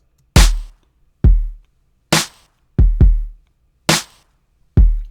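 A punchy low kick drum pattern alternates with bright layered stereo claps in a steady groove, several hits over five seconds with tight decays and no talking.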